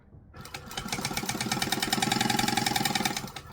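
A sewing machine top stitches layers of fabric for a small sewing project, starting after a brief pause and running in a fast, even, pulsing rhythm close to the microphone.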